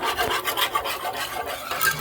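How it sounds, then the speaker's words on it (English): Flour and milk being whisked in a pot, a steady scraping rasp of the whisk against the metal sides and bottom, continuous and close with small rhythmic surges. "keep whisking until the flour and milk"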